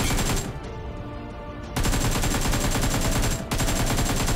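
Heavy guns in a shooter video game fire in rapid, dense automatic bursts, loud and close, with a brief change in the firing partway through.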